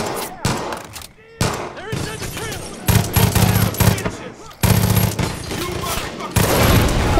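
Rapid bursts of automatic gunfire from the video game Far Cry 5, loud and repeated in volleys with short gaps between them.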